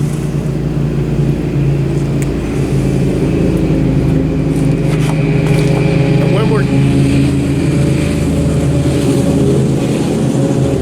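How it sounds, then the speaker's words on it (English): Road traffic passing a roadside smokehouse kitchen, a steady rumble of car engines with a vehicle swelling past, under someone talking close by. "A lot of traffic going by the old Bub and Mother's kitchen."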